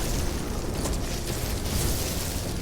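A dense, sustained roar of explosions from the geology cannon in No Man's Sky, loud and continuous with rumbling bursts layered over one another, no talking.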